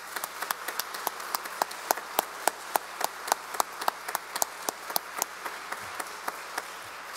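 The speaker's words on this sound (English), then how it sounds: "Can we give a round of applause for these folks?" Church congregation at a traditional worship service clapping for local charity workers, sparse distinct claps spread across the room, moderately distant over a low steady hum.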